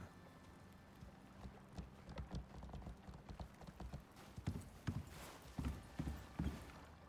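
A horse ridden in the survival game ICARUS plods along with steady, rhythmic clip-clop hoofbeats that grow more distinct and louder toward the end, set against quiet ambient wind.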